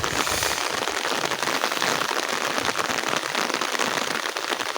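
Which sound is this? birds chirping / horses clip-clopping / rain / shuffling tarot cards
rain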